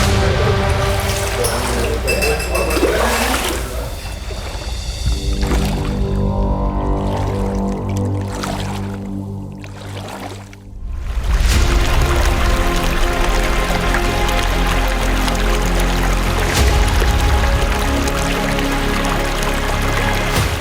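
Excess water pours steadily from a pipe into a temple pool, a continuous broadband rush and splash that briefly thins midway before surging back strongly, with no voices.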